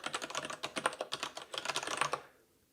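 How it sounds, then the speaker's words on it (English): Rapid, steady typing on a Kinesis Advantage ergonomic mechanical keyboard, a dense run of close, crisp key clicks that stops abruptly near the end. "Yeah, it's an ergonomic mechanical keyboard"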